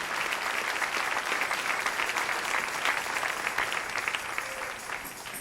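A church congregation breaks into loud, sustained applause, dense clapping from many people that holds steady and tapers slightly at the end.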